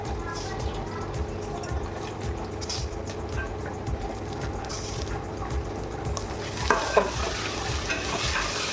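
Rice, cooked ahead and kept loose-grained, being stirred and fried in a pan for vegetarian pulao, a steady close scraping and rustle with soft sizzle that grows brighter and busier near the end.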